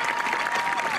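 A crowd at a high school graduation ceremony applauds steadily with dense, continuous clapping at moderate distance, with no voices standing out.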